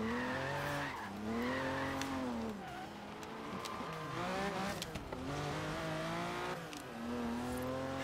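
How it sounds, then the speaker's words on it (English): Classic Lamborghini drifting in the Forza Horizon 3 racing game, its engine note rising and falling steadily under loud, sustained tire squeal, all close and continuous with no talking. "Oh, that was some nice drifting."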